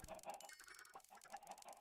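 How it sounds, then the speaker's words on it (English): Chickens in the Minecraft video game cluck in a quick series of short, clipped calls, fairly faint and steady throughout, with no voices over them. "Your job is to control the population of random chickens."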